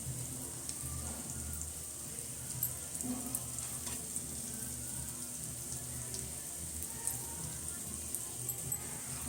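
Mung bean crepe batter frying on a hot pan gives a steady, moderately loud sizzle lasting throughout, with faint crackles and a few soft clicks, no voices.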